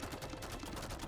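Rapid tear shots firing in The Binding of Isaac video game, a fast, even stream of short pops repeating many times a second, steady and fairly quiet with no voice over it.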